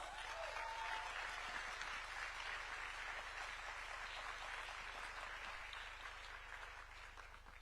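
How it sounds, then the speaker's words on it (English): Sustained audience applause at an Africa Forward Summit as a speaker, a company founder and CEO, walks onstage; steady, dense clapping from a large crowd fills the whole stretch, fading slightly toward the end, with no talking. "We can keep clapping for her until she takes a seat"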